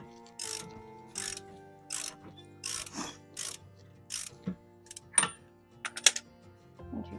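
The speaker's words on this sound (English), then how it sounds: "I just have my wrench. I can go ahead and tighten it up until I have my 7 rings." Ratcheting clicks from a wrench tightening the hitch chains on a Casita camper trailer's Anderson hitch, coming in short, spaced bursts of several turns each, close and fairly quiet.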